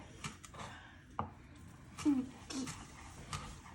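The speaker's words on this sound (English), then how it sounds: "She's cutting onion" Knife chopping an onion on a cutting board in a home kitchen, a few soft, irregular cuts spaced apart at close range, faint and mixed with light background room noise.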